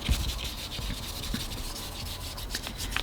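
Colour is scrubbed onto paper with a quick, close, rhythmic rubbing rasp that repeats steadily and carries no voice.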